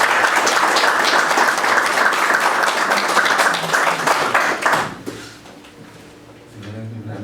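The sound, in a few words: applause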